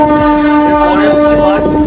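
Suburban local train on the Sealdah–Tarakeswar line pulling into Serampore station, loud and close with a sustained tonal horn-like blare over heavy rumbling.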